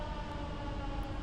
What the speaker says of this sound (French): Lorsque vous entendrez cette sirène, ne paniquez pas